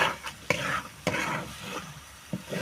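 Hog plum chutney stirred in a pan, with repeated scraping strokes and soft sizzling, punctuated by a few sharp utensil knocks against the pan.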